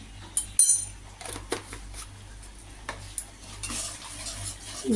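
Fried spices stirred into a curry with curd and eggs in a pan, with repeated metal scrapes and taps of a spoon against the pan over a low hum and faint sizzle.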